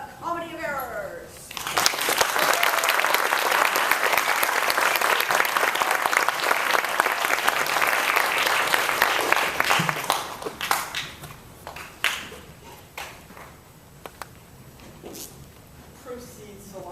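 An audience applauds as a performance of the Comedy of Errors begins, a loud burst of clapping that swells after a brief opening sound, holds for several seconds, then thins to scattered claps and quiet.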